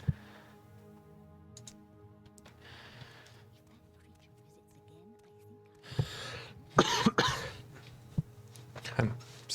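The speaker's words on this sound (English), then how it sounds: "I'm so sorry for the coughing." Harsh, abrupt coughs and throat clearing from a person near the microphone, several bursts clustered in the second half after quiet stretches with a faint background hum.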